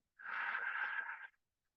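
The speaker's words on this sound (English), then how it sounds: "Inhaling deeply and exhale" A single deep exhale during a yoga practice, a soft breathy rush lasting about a second and then silence, close and quiet.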